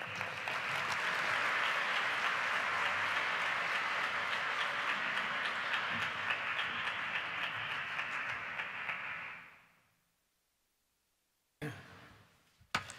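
Audience applause for Columbia University President Lee Bollinger at the Maria Moors Cabot Prize ceremony in New York, a loud, steady crowd clapping that runs about nine seconds and then fades out, followed by a brief rustle.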